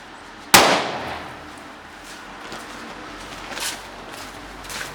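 A sharp, loud firecracker bang rings out on New Year's Eve, followed by fainter crackling pops and hiss trailing off over the next few seconds.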